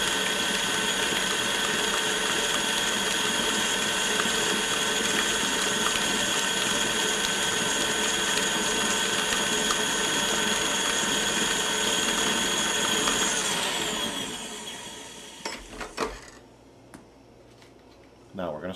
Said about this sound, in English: And blend that well.